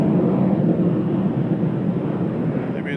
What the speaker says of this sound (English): Sounds like an F-16.